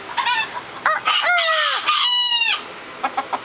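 A pet rooster crows loudly and close by, giving a full drawn-out call amid sharp clucks and squawks, then several short clucks trailing off.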